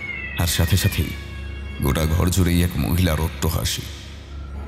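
In a Bengali horror story set in a zamindar's bungalow, a cat meows in a few drawn-out cries, close and clear, alternating with a narrator's voice talking.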